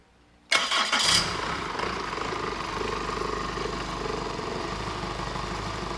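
A car engine fitted with electronic fuel injection cranks and catches after a short silence, then settles into a steady, loud, rumbling idle that holds to the end.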